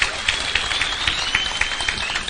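An audience at a university graduation ceremony in Kenya claps for President Ruto, a brisk, steady patter of applause from a large crowd, moderately loud throughout.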